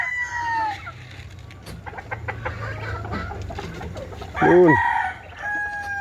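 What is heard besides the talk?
chickens clucking and crowing while being fed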